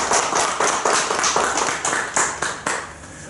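An audience at a lecture on a community bank applauds the professor, giving loud, close, dense clapping that swells and dips in a steady rhythm before easing off.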